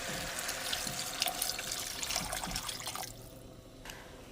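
Water pours steadily into a pot of curry with eggplant and medium curry powder, a continuous splashing rush that drops off sharply near the end.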